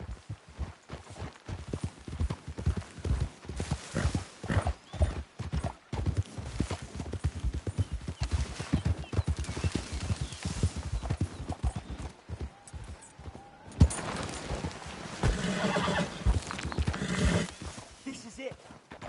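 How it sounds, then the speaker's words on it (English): Horses' hooves clip-clop in a steady, fairly close rhythm through a Wild West setting in Red Dead Redemption 2, with a horse whinnying and people talking over the hoofbeats. "We should leave the horses."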